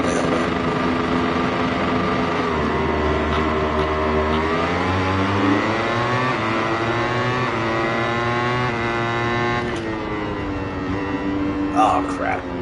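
Racing motorbike engine in a video game, revving steadily with rising and falling pitch through the gears, loud and continuous, with a speaking voice underneath.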